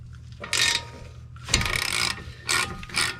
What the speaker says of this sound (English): if you're using the wrong socket like I am, you want to make sure you can try and get leverage in here.